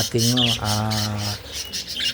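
Pet birds being fed rice and a supplement give loud, harsh squawks and calls close by, several overlapping cries in quick bursts, with faint background sounds between them.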